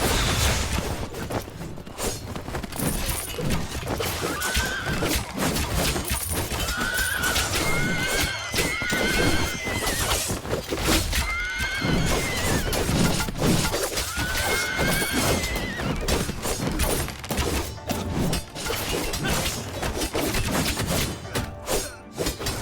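Horse neighing and whinnying repeatedly over pounding hooves and battle clamor in the Three Kingdoms Zhao Yun game, loud and continuous throughout with several distinct whinnies rising above the din.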